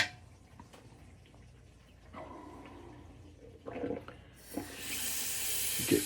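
Hairy shaving water drains from a bathroom sink, first as scattered soft trickles and gurgles, then a louder, steady rushing gush that builds and holds through the final seconds, close by with no talk.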